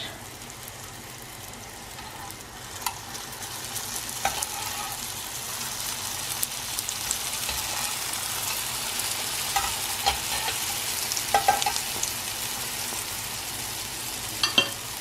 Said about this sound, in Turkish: Şimdi çikolatalı pişilerde bunları kızarttım